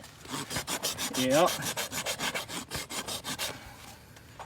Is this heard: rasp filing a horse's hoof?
yes